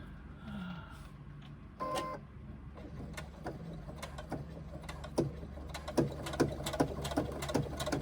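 A sewing machine stitches a pouch seam, running in short bursts of rapid mechanical clatter with sharp ticking knocks, growing busier and louder toward the end.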